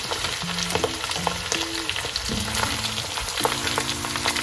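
Rabbit pieces browning in a hot pan give off a steady crackling sizzle, with occasional stirring clatter and low hum tones from the kitchen, close and moderately loud, no talking.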